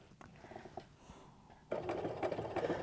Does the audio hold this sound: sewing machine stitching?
yes